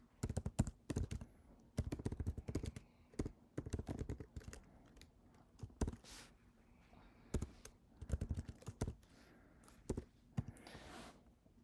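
Computer keyboard typing in quick irregular bursts of sharp clicks with short pauses, close but fairly quiet.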